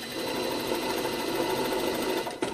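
A sewing machine runs a steady, fast, even whir while stitching a seam on a lined jacket, loud and close, with a small clunk near the end and no talking.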